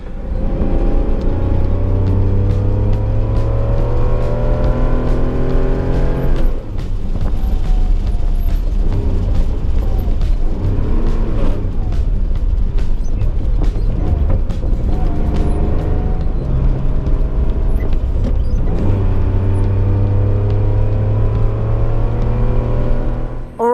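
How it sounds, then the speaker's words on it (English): An air-cooled Porsche engine roars continuously on a race track with rising and falling revs as gears shift, loud and close throughout, with a brief dip midway. "quickly jump into Stu's air-cooled car while he's taking the 996 out"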